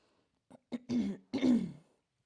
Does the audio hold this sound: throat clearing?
yes